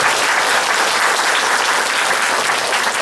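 A church congregation claps together during a Korean Thanksgiving worship service, giving steady, loud, continuous applause with no voices over it.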